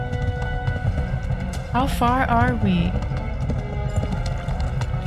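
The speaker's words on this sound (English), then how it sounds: "horse is running out of stamina" Rapid rhythmic hoofbeats of a galloping horse in the video game Kingdom Come: Deliverance, steady under a man's brief spoken question.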